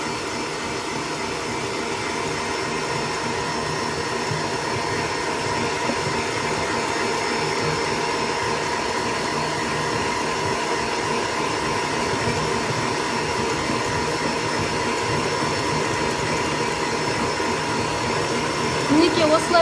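An electric mixer at maximum speed whips a marshmallow mass made with lily and peony juice, a loud steady whirring drone that runs unbroken throughout.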